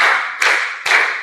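Three sharp hand claps in a steady rhythm, close and loud, from a classroom clapping routine, with no voices.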